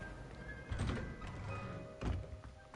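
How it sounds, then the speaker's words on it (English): A large heavy door in the video game Hogwarts Legacy swings open slowly, with low thunks and a long creaking rumble layered over ambient game sound. "Bigger doors take longer to open."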